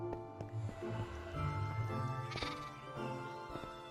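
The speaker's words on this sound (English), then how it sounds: "There's some sheep down in here in the other room" Sheep bleat in a room of the Minecraft Stoneblock modpack, a few wavering game bleats heard fairly faint and at close range amid soft background sound.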